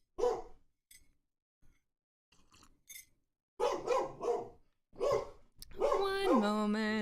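A pet dog barks in short separate bursts, some sharp and some softer, then lets out a long rising-and-falling whine near the end, all close by with no talking.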